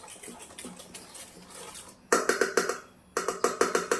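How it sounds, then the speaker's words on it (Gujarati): A utensil whisks chana dal khaman batter in a bowl, giving rapid rhythmic clinks and scrapes against the bowl, softer at first, then two loud bursts of quick beats separated by a short pause. "હવે આપણે મિશ્રણને સરસ આવી રીતે ફેટી લેશું 2 મિનિટ"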